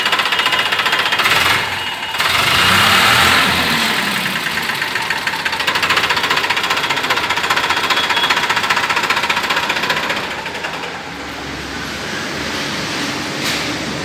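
A new Farmtrac 45 tractor with a 48 HP engine runs close and loud, a heavy diesel knocking rumble that rises briefly, then settles to a steadier idle.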